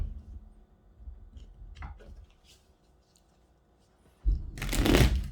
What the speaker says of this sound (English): Alright, let's shuffle.